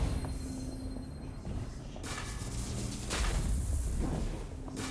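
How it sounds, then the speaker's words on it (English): An electrical explosion in the video game Curse of the Dead Gods bursts out as a crackling boom, followed by a second sharp blast a moment later, over a rumbling game soundscape, with no talk. "Big electrical explosion."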